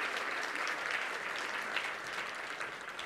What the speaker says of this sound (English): So shall we give a round of applause to Mr. Matthew Lam, Honorary Consul of Estonia.